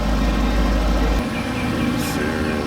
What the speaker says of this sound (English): That thing sounds so tough, dude. Look at that. That exhaust is serious.